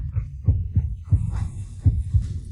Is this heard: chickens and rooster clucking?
no